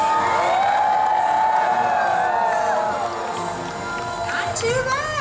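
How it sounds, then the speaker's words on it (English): A studio audience at the Universal Studios animal actors show screams and cheers loudly on cue for a trained dog, a steady massed roar with a few higher whoops rising near the end. "When I say action, I want you to scream and cheer as loud as possible."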